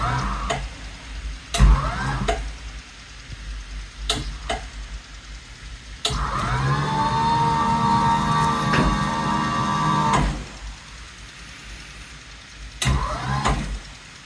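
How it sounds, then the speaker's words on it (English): FlexiSpot E7 standing desk motor running steadily for about four seconds with a sustained mechanical whine, set between scattered clicks and knocks. "It's just the sound of a normal motor, going up and down."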